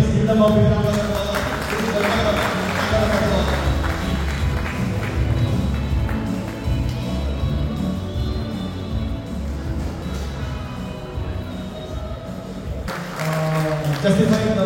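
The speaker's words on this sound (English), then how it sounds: "Ladies and gentlemen, please give them a big round of applause" An audience applauds at a Lions Club installation ceremony for a new president and team, heard as steady, moderately loud clapping from a crowd that lasts most of the clip, with voices and a brief louder burst near the end.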